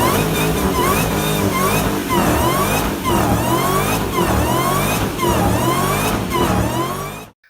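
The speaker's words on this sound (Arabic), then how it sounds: "وصوت ونين السوبر في حتة تانية الصراحة" A car engine with a supercharger revs repeatedly, each rise carrying a high rising supercharger whine over the rumble, loud and close, in several surging bursts before cutting off.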